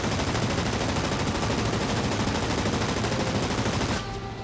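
Sustained rapid machine-gun fire from an aircraft in the World of Warplanes combat game, loud and continuous for about four seconds before cutting off abruptly into quieter engine drone.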